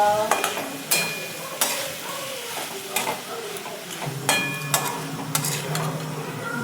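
Bitter gourd cooking in oil in a pan: steady soft sizzling with occasional sharp stirring clicks and scrapes, close by, with no talking.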